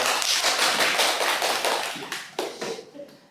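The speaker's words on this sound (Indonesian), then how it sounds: "Beri aplaus untuk." A primary school class applauds during a lesson on magnets, a dense burst of many hands clapping at once that is loud at first, then thins into a few scattered claps and fades out.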